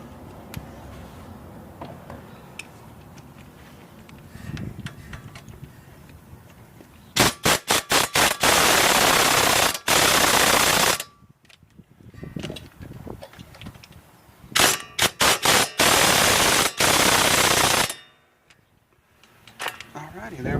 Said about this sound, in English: if you're using a good impact that's really powerful, just getting them down really snug will be fine